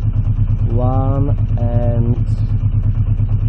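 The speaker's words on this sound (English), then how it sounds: "the engine seems to be reacting to the throttle well" A Honda CB650C motorcycle engine idles after a pilot screw adjustment, a steady close mechanical throb with two short rising revs in the middle.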